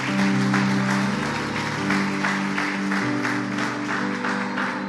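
A church congregation applauds in sustained, steady clapping, with a strong held tone from music or an organ sounding underneath throughout.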